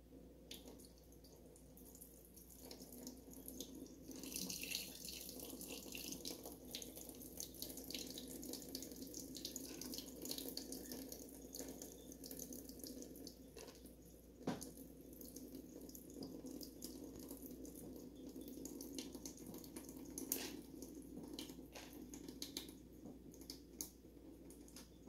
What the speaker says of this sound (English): and then all we're gonna do is just drain the water.